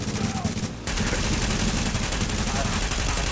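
Rapid machine gun fire from the video game The Division, a dense sustained burst with a brief gap near the start, loud and continuous throughout.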